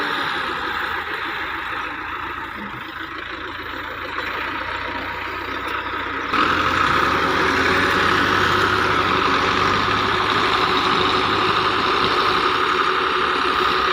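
A small tractor hauling a 16-foot trolley drones steadily with a continuous engine rumble, growing louder and fuller partway through as it pulls, with no voices.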